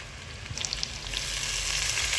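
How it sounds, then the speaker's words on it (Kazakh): Chopped onions frying in a pan for a meat strudel, a continuous close hiss and sizzle that swells slightly as the cooking goes on, with a few faint stirring clicks. "Жуасын саласыңдар. Оны да жақсылап дәмін шығарып қуырмалап"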